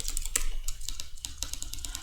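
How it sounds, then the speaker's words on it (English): Computer keyboard typing heard close up: quick, irregular clacking keystrokes in short bursts over a low background hum, with no voices. "Sorry for the typing noises and for my distraction."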